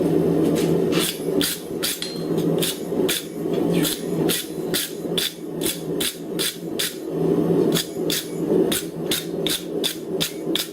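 A welded metal leaf on a rose sculpture scrubbed with a wire brush, rapid loud rasping strokes in a steady rhythm, close up, with no voices.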